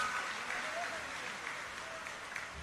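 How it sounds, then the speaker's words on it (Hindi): Faint crowd applause at a Haryana election nomination rally in Safidon forms a soft, diffuse wash of distant clapping beneath an amplified voice. "एक बार सभी तालियां बजा के"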